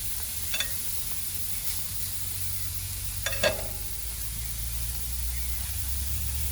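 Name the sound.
jerk shrimp and burgers sizzling on the grill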